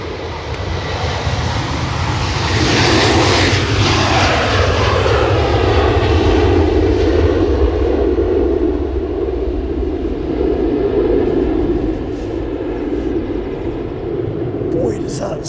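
Rolls-Royce RB211 engines of a large airliner roar loudly at Edinburgh Airport on a windy day, a sustained rumbling whine that swells and slowly fades as the plane passes, with a voice talking over it.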